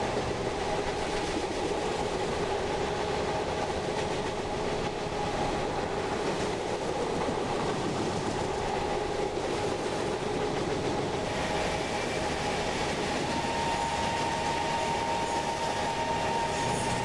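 Intercity Express train on Indian Railways in the MSTS Open Rails simulator, a steady rumbling run with faint rhythmic wheel clatter and a sustained engine hum, continuous and even throughout.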